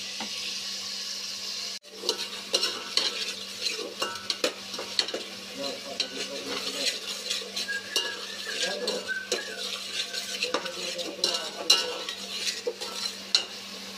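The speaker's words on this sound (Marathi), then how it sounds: "आलं लसूण पेस्ट खोबऱ्याची जी केलेली होती ती त्याच्यामध्ये ॲड करायची आणि ती पण भाजून घ्यायची छान." Ginger-garlic-coconut paste with tomato puree stir-frying in a pan, a steady sizzle under repeated scraping and clinking of a spoon against the pan, close and continuous with no talking.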